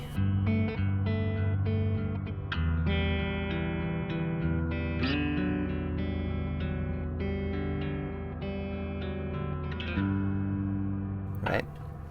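Meris Mercury X reverb pedal with a freeze function, sustaining a dense, continuous pad of held chords while dry notes change over it, alone and steady at moderate loudness.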